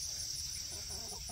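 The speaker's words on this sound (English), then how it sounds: "I have 3 chickens down here and they are just wallowing around in the dirt." Three backyard chickens cluck softly while dust bathing in loose dirt, a low, steady murmur of hen sounds under a constant high-pitched background hum, with no talk.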